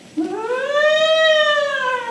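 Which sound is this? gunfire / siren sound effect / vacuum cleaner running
siren sound effect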